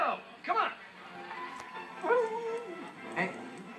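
A dog whimpers and gives short yelping barks in a few bursts, close and fairly clear, with faint voices and background noise underneath.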